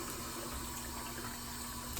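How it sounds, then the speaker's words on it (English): Warm water runs steadily from a bathroom tap during a night-time skin care routine, a soft constant rushing stream at low level with no talk. "So then I'm going to get some warm water,"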